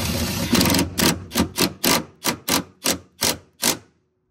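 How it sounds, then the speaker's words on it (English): Ratcheting wrench tightening the front bolts of a bucket seat in a Nissan G37/370Z/G35/350Z: a quick, even series of about ten sharp clicks, close and alone, ending in silence. "And tighten this one completely."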